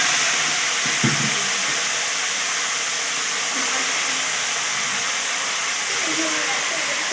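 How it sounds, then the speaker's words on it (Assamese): Taro stolons hit a pan of frying, reddened onions, raising a loud steady hiss of sizzling oil that runs continuously throughout. "এতিয়া মই ইয়াতে দিম কচুৰ ঠুৰিখিনি"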